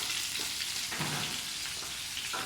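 Breaded chicken parma fries in hot oil in a pan, giving a steady, close, dense sizzle with soft crackle that runs unbroken throughout, with no voices.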